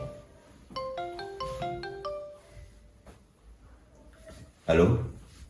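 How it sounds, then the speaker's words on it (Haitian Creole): A mobile phone ringtone rings: a short run of stepped electronic notes repeating over a hissy room background, followed by a louder noisy burst near the end. "Mon téléphone va sonner, oui."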